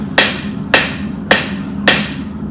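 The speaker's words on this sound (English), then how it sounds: "Using that edge of the anvil as a radius" Hammer blows forging knife steel over the edge of an anvil to draw out bevels, four loud, evenly spaced ringing strikes about half a second apart, close and with no voices.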